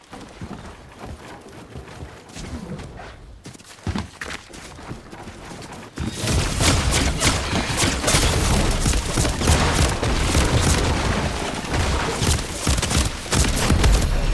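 Rapid video game gunfire from a shooter, a dense, loud stream of shots that grows heavier and more continuous after a brief quieter stretch with a few booms.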